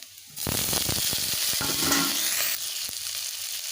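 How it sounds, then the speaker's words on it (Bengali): Onions and tomato fry in a pan for a soybean and potato curry, giving a loud, continuous sizzle broken by repeated clicks and scrapes of stirring, close by. "পেঁয়াজগুলোকে ভেজে নেব"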